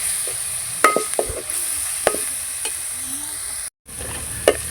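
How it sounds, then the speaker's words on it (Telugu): Ginger, garlic and green chillies fry in a pan until brown, giving a low steady sizzle broken by occasional scraping stirs and clinks, with no voices. "రెడీ చేసుకున్న అల్లం వెల్లుల్లి కొంచెం పచ్చిమిర్చి వేసుకొని కొంచెం బ్రౌన్ కలర్ వచ్చే వరకు వేగనిచ్చి"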